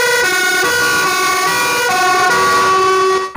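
A loud electronic toy fire truck siren alternates between two tones in a quick repeating pattern, close by, cutting off abruptly at the end.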